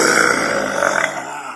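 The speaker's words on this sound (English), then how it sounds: "this burp does have a lot of character" A single long, loud burp rumbles close up for about a second and a half with a rough, throaty texture, tapering off at the end, with no other sound around it.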